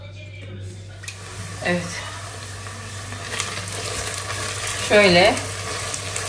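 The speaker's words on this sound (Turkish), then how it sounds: "Sıcak su koyacağım arkadaşlar." Hot water poured into a pan of fried tomato paste and beans sets off a sizzle and bubbling, with a stronger hissing burst near the end, over steady background hum while someone talks in Turkish.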